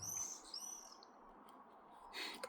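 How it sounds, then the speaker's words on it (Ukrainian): Faint bird calls chirp in short whistled phrases over a soft outdoor hiss, with a brief rustle near the end. "пташки гарно співають."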